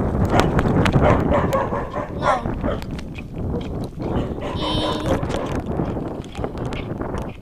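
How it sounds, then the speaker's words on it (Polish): Several dogs bark outdoors in close, repeated, overlapping bursts of varying loudness. A voice talks underneath them. "Chwila, bo tu znowu będą te psy"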